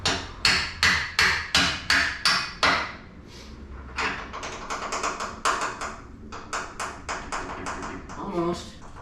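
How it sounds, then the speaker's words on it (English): A jack lifts the rear of a 1987 Dodge D100 pickup during suspension work, giving a fast, even run of close metallic clicks and knocks that slows into a looser rhythm, with a voice briefly heard. "Let's see if we can jack this up just a hair."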